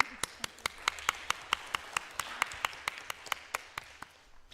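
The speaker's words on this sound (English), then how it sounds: "I would like to give you a round of applause" Scattered applause from a small audience at a city commission workshop in Lynn Haven, heard as a steady run of distinct, fairly quiet claps that thins out toward the end.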